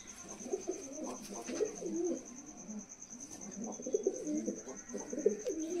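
A Malwai pigeon coos softly in repeated low throaty phrases, close by and fairly quiet, with a steady high electronic whine in the background.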